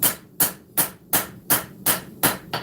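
A hammer lightly taps hot steel on an anvil while a knife with a fuller is forged, seven evenly spaced sharp metallic strikes in a steady rhythm, close and clear, with no talking.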